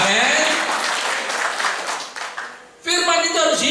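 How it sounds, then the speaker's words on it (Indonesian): A church congregation claps and applauds during a sermon, a dense wash of hand claps with voices shouting over it, easing off briefly before a voice rises again near the end. "Yang percaya tepuk tangan buat Yesus Tuhan"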